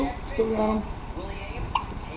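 A baby boy's hiccup, one small, sharp catch near the end, with adult voices chatting softly around it.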